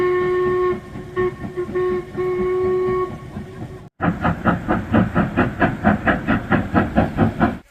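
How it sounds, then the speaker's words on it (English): A train horn sounds steadily, then a steam train rumbles past over a viaduct with a loud, rhythmic chuffing and clatter of wheels. "And it was a steam train."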